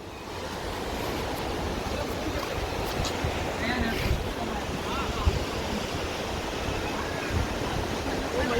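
Sea waves surge below Bandra Fort in Mumbai, heard as a continuous roar of surf with wind buffeting the microphone throughout.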